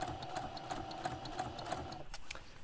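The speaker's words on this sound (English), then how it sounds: "I'm going to stitch down the edge of this bias tape" A sewing machine with an edge stitch foot runs steadily while edge stitching curved, slightly stretchy bias tape on a smock apron, a close, even mechanical whir with regular rhythmic ticks that halts briefly near the end.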